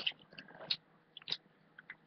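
Close, quiet chewing of a Bean Boozled jelly bean: soft wet smacks and squelchy bites come in irregular bursts with brief pauses.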